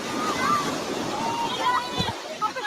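An ocean wave surging and sloshing from a played-back clip of a surprise wave in Rio de Janeiro, a continuous watery wash with speech running over it.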